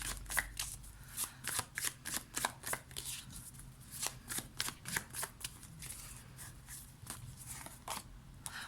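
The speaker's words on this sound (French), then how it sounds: "On va prendre The Light of Circe, on va prendre 2 cartes pour voir." A deck of Light of Circe oracle cards is shuffled by hand, giving a quick, regular run of crisp riffling flicks and snaps, close and fairly quiet, with no talking over it.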